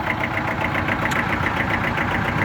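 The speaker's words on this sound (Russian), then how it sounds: "Трактор агрегатирован двухцилиндровым дизельным двигателем" A two-cylinder diesel engine on a Mitsubishi D1600 tractor idles with a steady, evenly pulsing chug and rumble, close and continuous with no voices.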